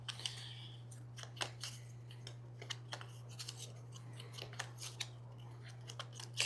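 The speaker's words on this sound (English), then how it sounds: "So I will draw my last card here and then shuffle these up." Playing cards shuffled up close, a run of crisp riffling snaps and clicks over a steady low hum.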